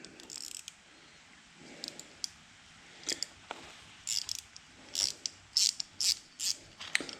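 A hand ratchet clicks in short bursts of sharp, close clicks, loosening the solenoid on a new 7.3 Powerstroke diesel fuel injector on a workbench; the bursts grow louder and quicker toward the end, with quiet gaps between them.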